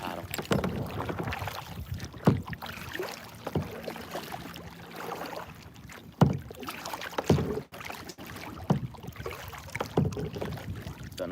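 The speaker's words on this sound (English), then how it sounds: "See how I paddle." Kayak paddle strokes dip and pull through water in a steady rhythm, close by, under gusting wind and rough wind noise on the microphone while fishing from the kayak.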